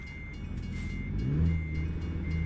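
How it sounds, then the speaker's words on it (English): A truck engine in American Truck Simulator drones low and steady, its pitch rising briefly as it revs, with a faint high tone above, heard close and alone. "Barely hear you over the truck"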